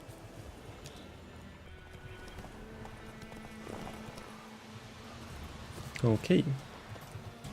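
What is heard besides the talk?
horse hooves galloping in a video game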